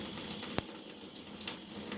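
Cold water pours steadily from an LED-lit chrome waterfall bathroom basin faucet, a continuous close splashing rush into the sink.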